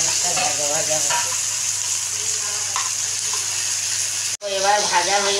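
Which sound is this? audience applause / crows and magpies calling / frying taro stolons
frying taro stolons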